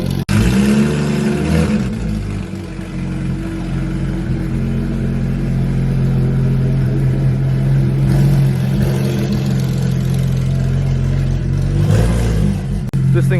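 A Porsche GT3 RS fitted with an aftermarket exhaust idles loudly and revs up, its deep engine roar steady and near the whole time with a few rising pulls, and a voice comes through briefly beneath it.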